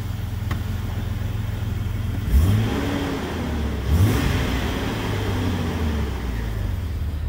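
A Jeep Cherokee XJ police vehicle engine idling after its first start in six months, heard from inside as a steady low rumble with two brief revs rising and falling, loud and continuous with no talking.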